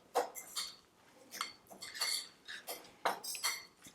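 A utensil mixes ingredients in a bowl, producing quiet irregular clinks and scrapes in short bursts, close and fairly soft, with no talking.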